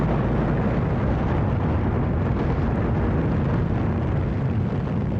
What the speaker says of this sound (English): Atomic bomb testing at the Nevada Proving Facility had begun.